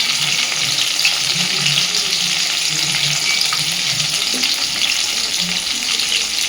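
A pan of mustard paste ground with green chilli and a little cumin, with water added, being stirred and mixed: a steady bright sizzle and bubbling hiss throughout, with soft, irregular scraping and stirring sounds underneath.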